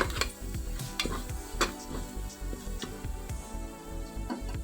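Green chillies sautéing in a pan for beetroot biryani, a continuous sizzle broken by repeated clinks and scrapes of a spoon stirring against the metal pan, close and busy throughout.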